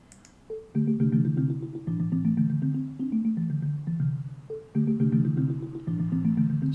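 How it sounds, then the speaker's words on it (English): Marimba-like synthesized melody from an online music tool, playing a bright, mallet-struck tune in a steady rhythm of repeated phrases, clear and alone at moderate volume. "That was a marimba type of thing."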